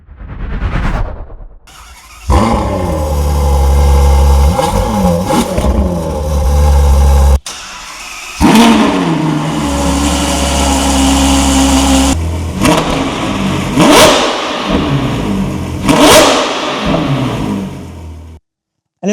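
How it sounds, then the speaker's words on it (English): A Ferrari F12 Berlinetta fitted with a Novitec sports exhaust starts and revs loudly and close by, with repeated sharp throttle blips and rising, falling engine roars, heard alone without talk. "That was the full installation and sound of the Novitec exhaust system being fitted to an F12 Berlinetta."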